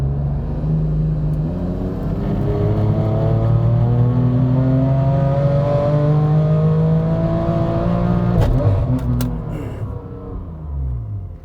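A BMW M3 F80 engine on a dyno base run revs steadily and loudly, climbing through a long sustained pull with a rising, rumbling exhaust tone, then easing off near the end.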